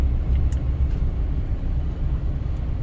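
Istanbul city traffic makes a steady low rumble of engines and road noise, with faint brief higher sounds, continuous and moderately loud.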